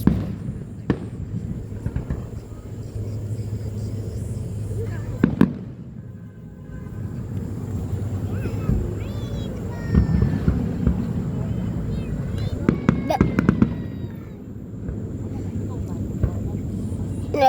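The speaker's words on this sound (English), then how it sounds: "I thought that was too many fireworks" Fourth of July fireworks explode in a series of sharp booms and crackles spread across the sky, some close and loud, others more distant, with people chatting and reacting throughout.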